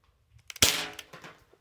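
Airsoft gun fired at a phone: a couple of light ticks, then one sharp snapping crack with a brief ringing tail and a few smaller knocks after, close and loud.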